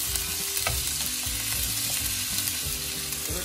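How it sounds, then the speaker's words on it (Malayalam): Green chilli stirred in hot oil while frying for dragon chicken, a steady close sizzle with soft scraping stirs throughout, no voices. "ചെറുതായിട്ടൊരു പച്ച മുളക് മാത്രമാണ് ഇളക്കി കൊടുക്കാം."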